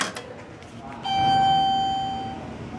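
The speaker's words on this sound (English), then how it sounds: "That's the only way to get the chime to ring going up." A single bright chime from a Dover hydraulic elevator going up in the Temple Building at the University of Nebraska-Lincoln, ringing clearly and sustaining for about a second before fading, with a faint voice near the start.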